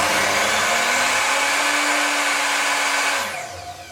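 An Evolution R255SMS multi-material sliding mitre saw motor whirs up steadily under soft start, holds a loud, constant whine, then winds down quickly as the brake engages in the final second.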